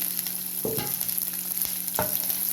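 Sliced onions and a small piece of ginger fry in a pan for masala khichdi, giving a steady crackling sizzle with a few louder stirring scrapes.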